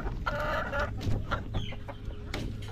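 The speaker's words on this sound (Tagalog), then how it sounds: "mukhang masisigla naman na lahat yung ating mga manok" Brown egg-laying hens cluck and cackle nearby in a farm coop, several short calls overlapping against a low background hum.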